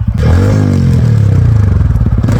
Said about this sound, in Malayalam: ഇരുന്നൂറ്റി ഇരുപത്തഞ്ച് സി സിയിൽ റോണിന് ഇത്രയും ശബ്ദം ഉൽപ്പാദിപ്പിക്കുന്നത് ഞാൻ വളരെ സർപ്രൈസായി